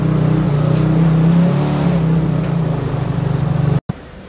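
A rebuilt Kymco Racing scooter engine runs steadily at close range with a strong low rumble and slight revving, then cuts off abruptly before a brief final sputter.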